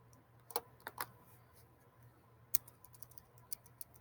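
Button presses on a graphing calculator while an equation is entered, a handful of faint, sparse clicks spread irregularly over a few seconds against a quiet room.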